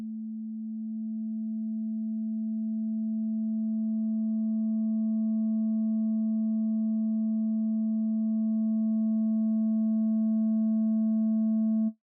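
Steady synthesizer sine tone from VCV Rack, with a fainter higher harmonic gradually rising in through the filter over about twelve seconds, sustained and unbroken before cutting off abruptly.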